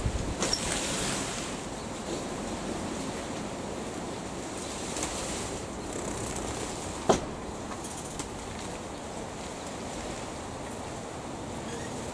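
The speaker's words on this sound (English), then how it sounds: "Man, it's windy." Steady wind blows and buffets the microphone, a continuous broadband rush with a few gusts and one brief knock, no voices.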